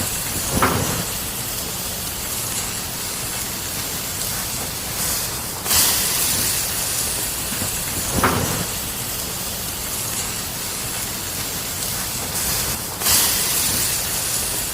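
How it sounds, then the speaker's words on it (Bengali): Fuchka puffs fry in hot oil in a wok, giving a steady loud hiss and sizzle throughout with a few brief sharper bursts as pieces go in, with no voices. "এবার ফুচকাগুলো একে একে ভেজে নিই"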